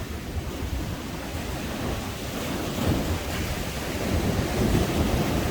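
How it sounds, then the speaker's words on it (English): Waves roll in at the water's edge in Blackpool on a morning shore, making a continuous broadband wash that swells slightly louder toward the end, with no voices. "these lovely scenes this morning of the rolling waves"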